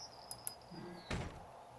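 A door opens in a survival video game base with a whooshing slide and a brief thud, preceded by two sharp clicks and a high electronic tone.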